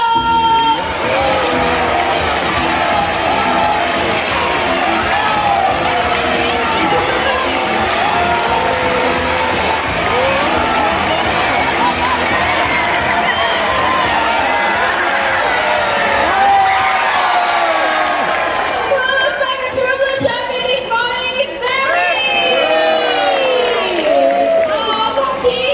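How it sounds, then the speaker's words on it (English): A crowd at a parrot show in Jurong Bird Park, Singapore, cheers loudly and continuously for a cockatoo, with excited children shouting, whoops and chatter swelling over about twenty-five seconds. "Cocky supporters, come on guys, you have to cheer louder"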